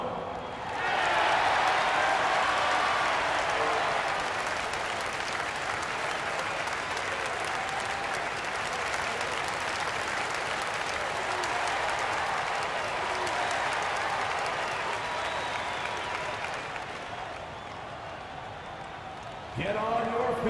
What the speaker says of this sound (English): Get on your feet right now, crowd.